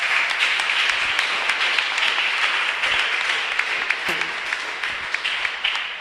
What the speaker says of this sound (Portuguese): Aplauda ao Senhor, amados.